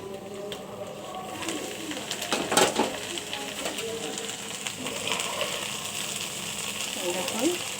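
Okra frying in a pan while a lid covers it, giving a steady, even sizzle that stays close and constant throughout, with no sharp spikes.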